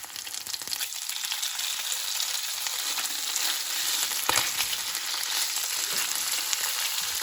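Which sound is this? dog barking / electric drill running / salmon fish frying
salmon fish frying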